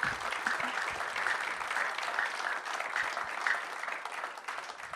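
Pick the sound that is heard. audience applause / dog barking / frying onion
audience applause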